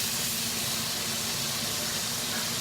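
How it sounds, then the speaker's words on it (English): Soy sauce hits a hot cast iron skillet while venison steaks cook, giving a loud, steady hiss of steam and sizzle that fills the whole moment without a break. "that steam is because of the temperature. And that's basically doing kind of a flash fry."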